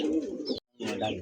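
Pigeons coo in two short bursts split by a brief silence, with a low throaty rolling tone, close and fairly loud.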